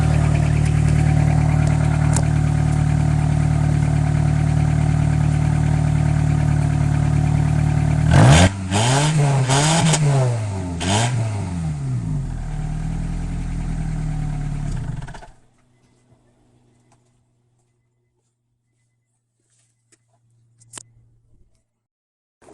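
Honda Accord engine and exhaust with a worn muffler awaiting replacement: a loud, steady idle, then several sharp revs rising and falling before the motor cuts off into near silence with a few faint clicks.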